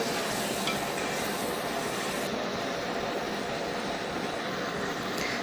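Chopped onion, ginger, garlic and green chilli fry in oil in a pan, giving a constant crackling sizzle with soft stirring scrapes that runs evenly and close-up.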